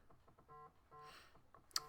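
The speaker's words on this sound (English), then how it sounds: "I obviously can't answer the phone at the moment" Tonal tones pulsing in short repeated bursts, like a phone ringing with an incoming call, fairly faint with a brief sharp click near the end.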